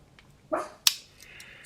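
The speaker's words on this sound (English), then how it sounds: "That's my dog." Two short dog barks close by, the second sharper and louder, in an otherwise quiet room.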